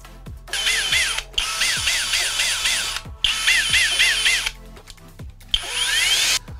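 A HOTO 12V brushless drill runs in three long bursts with short pauses between them, giving a whirring motor whine with ratcheting, gear-like clicks, close and clear with no talk.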